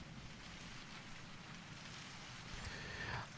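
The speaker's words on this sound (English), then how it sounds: "Oh yeah, it's raining already." Steady rain falls in the Star Citizen game world, a soft, even hiss of droplets that holds at a constant moderate level throughout, swelling slightly near the end, with no voices.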